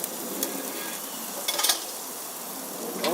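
BBQ food sizzling in a pan, a steady close frying hiss with a few light utensil clicks and scrapes.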